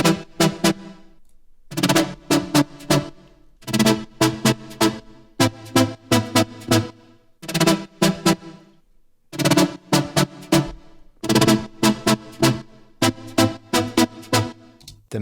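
A synth lead patch built in Serum plays in choppy, rhythmic bursts with short gaps between them, bright and harmonically rich, standing alone with no voices.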